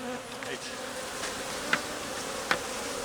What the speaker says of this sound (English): These bees are not happy today.